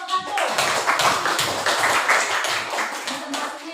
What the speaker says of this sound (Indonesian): Mana tepuk tangannya untuk kelompok 1?